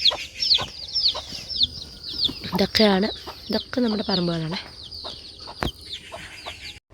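Hens cluck and call repeatedly in a backyard, sharp close clucks and a drawn-out cackle in uneven bursts, while a person talks over them.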